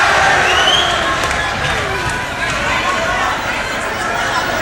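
A crowd at a wrestling match chatters and murmurs continuously before the first round, a dense, fairly loud indoor hubbub with scattered calls.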